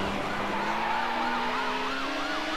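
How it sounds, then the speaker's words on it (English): A police car siren wails in the Need for Speed: Hot Pursuit 2 racing game, a loud continuous warbling tone over steady engine drone, sustained for the whole stretch with no talking. "Oh, it was a police car."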